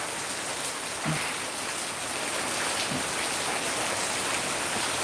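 Heavy rain falling in Pattaya after a night-long downpour, a dense unbroken wash of drops with a couple of faint brief knocks, no one speaking.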